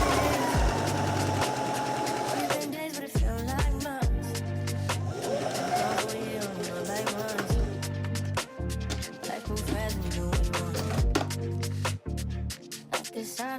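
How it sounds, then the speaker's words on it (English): A sewing machine stitches the shoulder seams of a shirt in a series of loud, steady runs that start and stop again and again, with brief pauses between the bursts of stitching. "But yeah, we about to start sewing, baby. We really about to get into it. First, I'm gonna start with the shoulder seams."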